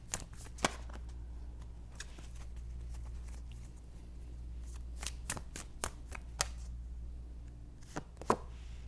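Tarot cards being shuffled during a reading, heard as soft irregular snaps and riffles scattered over a quiet low hum, with a few sharper clicks near the end.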